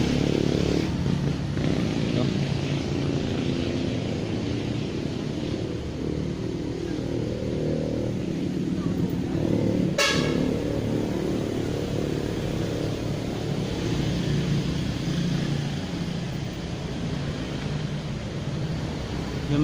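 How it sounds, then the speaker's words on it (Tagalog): Motorcycles pass by on a road near a bridge, a steady engine drone rising and fading from passing bikes, with a brief sharp click midway. "Pasensya na po sa mga motor na dumadaan"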